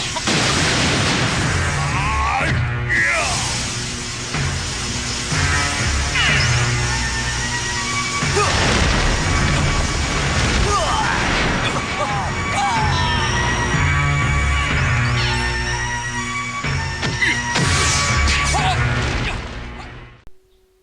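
The Pasopati arrow smashes into the enemy in a dense, continuous battle of crashing impacts, booming blasts and whooshing swipes that stays loud throughout and fades at the very end.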